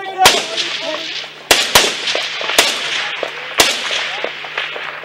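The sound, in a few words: gunfire, rifle rounds fired in combat in Afghanistan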